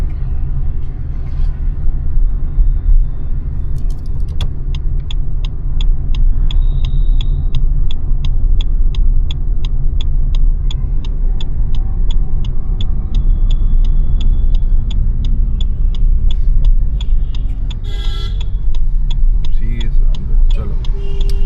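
A car engine hums in second gear during driving practice, a steady low rumble running throughout with a faint ticking indicator, under frequent speech from people inside the car.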